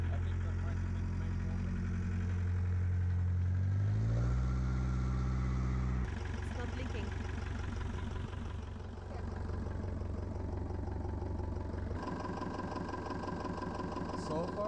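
A van's engine idles steadily after a punctured radiator has been refilled and coolant has circulated, a low continuous hum running throughout with voices talking over it.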